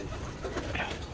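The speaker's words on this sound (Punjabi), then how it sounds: "ਇਹ ਦੇਖੋ ਮਾਸ਼ਾਅੱਲਾ, ਇਹ ਵੱਡੇ ਕਬੂਤਰ ਆ" Large pigeons coo softly in a short burst, low and murmuring against faint background noise.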